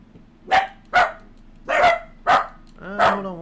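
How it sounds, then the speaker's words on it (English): Several dogs bark indoors in five sharp, loud bursts spaced roughly half a second apart, with a faint whine near the end, heard over a quiet room. "sorry guys, my dogs are barking"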